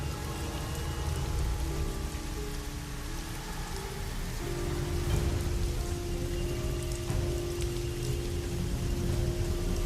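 Steady heavy rain pours down, a dense hiss of drops pattering on surfaces, continuous and loud with no pauses.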